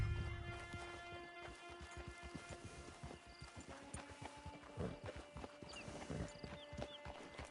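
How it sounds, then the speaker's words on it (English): Horse hooves clip-clop steadily in Red Dead Redemption 2, a rhythmic walking gait heard close and clear over a faint musical and ambient game background, with an occasional soft whinny and no talk. "Get your horse."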